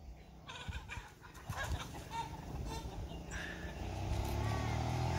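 Rooster clucking and calling among hens on a farm, a few short bursts of fowl sounds over background noise, with a low rumble building toward the end.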